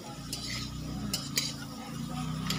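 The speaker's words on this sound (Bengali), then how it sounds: "আমার আলু ভাজা হয়ে গেছে" Potatoes fry in a pan while a utensil stirs and scrapes them, sending a few soft clinks over a low, steady sizzle close by.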